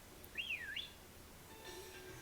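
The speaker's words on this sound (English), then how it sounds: "Wait, I can whistle in here?" A single short two-note whistle from the character in the Pokemon Sword video game, a clear rising-and-falling tone over a faint steady game background.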